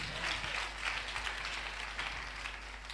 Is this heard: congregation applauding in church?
yes